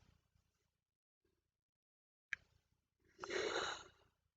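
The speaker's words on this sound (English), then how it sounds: "I am about to yawn again." A single yawn indoors, a quiet breathy inhale that swells into a longer drawn-out voiced exhale, preceded by faint breathing and a brief click, with no talk.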